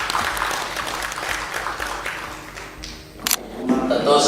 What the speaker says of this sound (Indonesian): Ini kayaknya kita perlu tepuk tangan juga untuk ini.